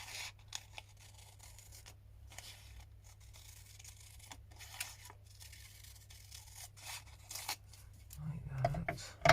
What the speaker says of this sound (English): I'm just going to trim that up through there.